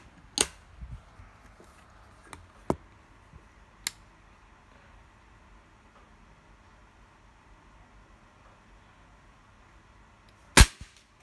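A Slavia 634 air rifle firing candy slugs gives sharp single shots with longer gaps between them, several in the first few seconds and a louder crack near the end, with quiet between.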